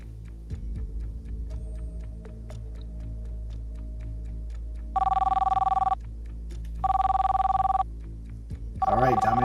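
A telephone rings for an incoming call in repeated loud bursts, each about a second long with gaps between, over a low steady hum and faint ticking, while people talk nearby.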